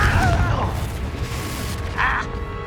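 A Confringo fire spell bursts in Hogwarts Legacy combat, short bright blasts near the start and again around two seconds, over a steady bed of game noise while a voice calls out the spell.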